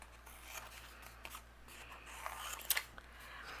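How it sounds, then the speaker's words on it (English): Scissors snip and trim overhanging pattern paper on a handmade easel card, giving faint, close cuts with a few sharper snips near the end, and no talking. "we're going to use our scissors and trim that off"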